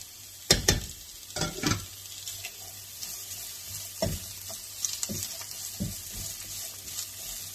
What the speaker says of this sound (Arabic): هنا درت زيت البلديه كيف ما قلت لكم. غنضيف عليها البصله